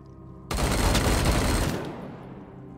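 A burst of automatic gunfire aimed at an enemy in Wasteland 3, a dense, loud fusillade of rapid shots lasting over a second before fading into a short echoing tail.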